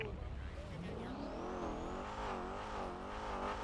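A car engine drives and revs in a roleplay video game, a continuous loud engine drone with rising and falling pitch sweeps throughout, with a voice talking over it.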